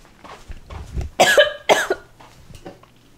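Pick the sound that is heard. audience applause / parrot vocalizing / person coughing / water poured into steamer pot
person coughing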